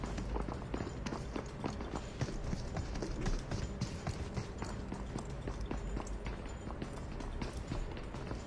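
Several players' footsteps in PUBG, a busy patter of overlapping steps running at close to mid range, steady throughout with dense low rumble beneath.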